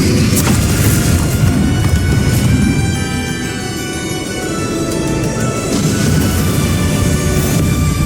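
Bombarda blast spells in a Hogwarts Legacy battle: loud, dense booming and crashing blasts run continuously throughout, dipping briefly in the middle before surging again, with no speech over them.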